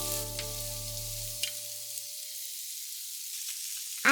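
Shrimp frying in olive oil in a pan give a steady, close sizzle. A low electrical hum underneath fades out partway through, leaving the frying crackle alone.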